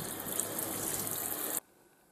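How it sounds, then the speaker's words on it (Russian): Warm tap water runs steadily while rinsing honey off skin after a knee massage, a soft hissing splash that cuts off abruptly near the end, leaving quiet. "Смываю это все тепленькой водичкой."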